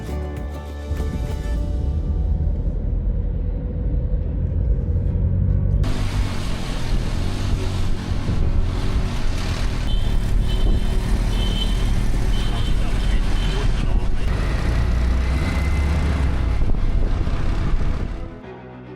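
Busy road traffic in Cambodia: a steady, loud wash of car and truck engines and tire rumble that swells partway through and carries on, with a voice talking over it and a few higher tonal bleeps that may be horns.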